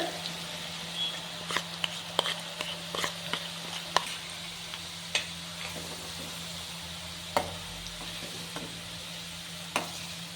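Ground garlic paste sizzles in heated oil in a pan for lemon pickle, a quiet steady frying hiss broken by scattered sharp clinks and stirring scrapes.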